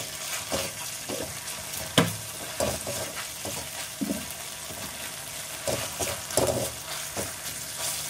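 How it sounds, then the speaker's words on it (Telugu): Ginger garlic paste fries in a pan with a steady broadband sizzle, broken by repeated clinks and scrapes of stirring, close and moderately loud with no talking. "ఇందులో ఇప్పుడు 1/2 స్పూన్ వరకు అల్లం వెల్లుల్లి పేస్ట్ని వేసేసుకొని పచ్చివాసన పోయేంత వరకు ఇది ఫ్రై చేసేసుకోండి"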